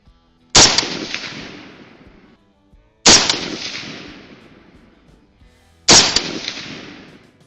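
Three loud .223 rifle shots fired outdoors at a target 117 yards away, each a sharp crack followed by a long decaying echo, spaced a few seconds apart.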